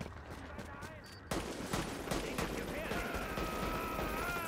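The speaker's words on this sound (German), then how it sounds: "Aus der Hüfte ist ja, wenn ich jetzt so schieße." Hip-fired gunfire in the shooter video game The Division: rapid, sharp shots break out after a brief lull and continue in dense bursts amid other game sounds and faint voices.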